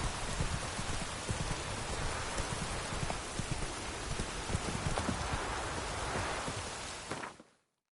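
Steady rain falling in The Witcher 3, a dense, even hiss of raindrops on surfaces with a few faint clops mixed in, continuing unbroken for several seconds before cutting off abruptly.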